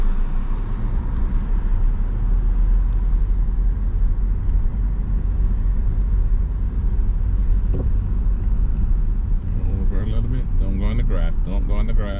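A car on a driving test pulls away with a steady, loud low engine and road drone from inside the cabin, and a voice speaks near the end.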